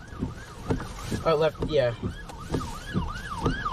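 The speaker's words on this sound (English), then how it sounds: "Get on the right-hand side so the ambulance can go by." An ambulance siren wails in a steady rising-and-falling pattern as it passes on the road during storm chasing, loud and close, with brief voices and wind noise alongside.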